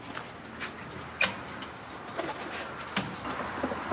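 Racing pigeons at a pigeon loft give soft, intermittent coos, faint and somewhat distant, with a few sharper rustles or wing sounds mixed in.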